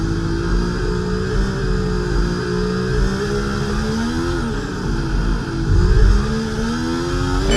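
A Formula 1 car in the EA Sports F1 24 video game at Barcelona's Spanish Grand Prix circuit drops revs under braking. The loud, steady engine whine falls in pitch, then climbs again.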